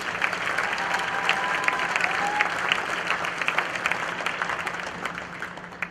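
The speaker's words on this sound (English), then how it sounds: "We can give one more round of applause to our seniors." A gym crowd at a high school wrestling meet claps warmly for its senior wrestlers. The applause stays even and dense throughout, with a faint whistle-like tone showing up briefly near the start.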